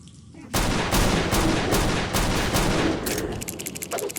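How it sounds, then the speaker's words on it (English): Enemy gunfire in the video game CountryCide, a sustained burst of rapid overlapping shots that starts abruptly and rattles on loudly, ending in a quicker clipped volley, with no talking. "I don't know how many times they shoot before they reload"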